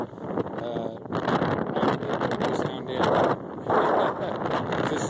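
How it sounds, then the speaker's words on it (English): Strong wind blowing outdoors high on a rocky mountain in New Mexico, roaring steadily and gusting hard against the microphone without a break. "Just windy as hell up here today."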